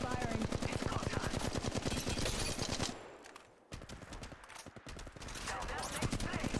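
Rapid automatic gunfire from Apex Legends Mobile rattles in fast, loud bursts, breaks off briefly, then resumes, with voices talking over the shooting.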